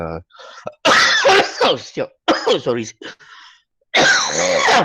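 A few sharp coughs break up a man's speech, with talking resuming right after, close to the microphone.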